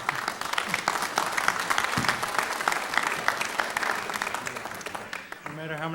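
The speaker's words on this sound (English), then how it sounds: "No matter how many times I tell you not to applaud, you do it anyway." An audience at a town meeting applauds, a dense, sustained clatter of many hands clapping that fades near the end as a voice begins to speak.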